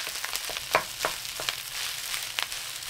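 Rice sizzles and crackles in hot sunflower oil in a pan for fried rice with egg, a steady close frying hiss broken by brief sharp pops and stirring scrapes, without talk.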